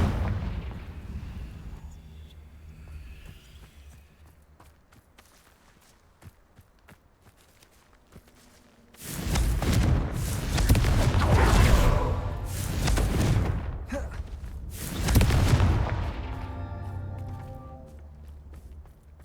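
Confringo fire spell explosions in Hogwarts Legacy, a quiet stretch with faint ticking steps giving way to a loud, sustained run of blasts and rumbling bursts in the second half.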